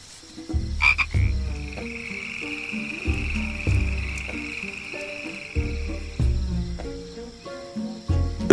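Frogs croak at night in a tropical rainforest, loud and close, in repeated deep rhythmic pulses while a steady high cricket-like trill runs underneath.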